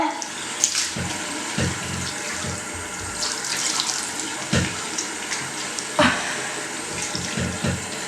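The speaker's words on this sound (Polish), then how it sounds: "zmywamy to przy umywalce" Tap water runs steadily into a bathroom sink while a face is rinsed, with splashes and irregular hand-splash bursts over the continuous flow, close and fairly loud.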